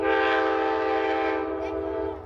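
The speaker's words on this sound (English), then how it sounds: "Amtrak's Train 50 Cardinal left Chicago nearly 24 hours ago at 5:45 p.m, calling here on its way to New York." Amtrak Train 50 Cardinal passenger train led by a P-42 DC Genesis locomotive sounds a loud, sustained multi-tone horn blast up close, holding steady for about two seconds before cutting off, with rumbling rail noise beneath.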